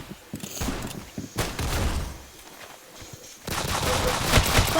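Bursts of rapid automatic gunfire from a firearm in the Roblox game Strong Man Simulator, loud, close and repeated in several clusters with brief gaps between them.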